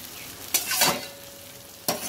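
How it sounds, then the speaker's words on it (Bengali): Water poured into a pan of frying potatoes, soybean chunks and eggs, with sharp bursts of sizzling hiss and stirring, two loud surges separated by a quieter simmer. "এবার আমি জলটা দিয়ে দিলাম"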